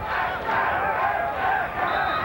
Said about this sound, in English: Fans chanting